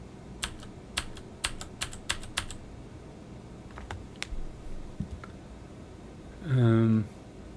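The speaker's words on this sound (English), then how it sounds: "Why can't I type the negative?" Computer keyboard typing in bursts of quick clicks, sharp and close, through the first few seconds, then sparse single taps, ending with a loud tonal beep or hum.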